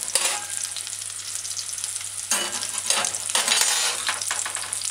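Thyme sizzles and crackles in hot oil while being stir-fried in a pan for a sweet potato rundung, a steady frying hiss with louder bursts as it is stirred, close and continuous with no talking.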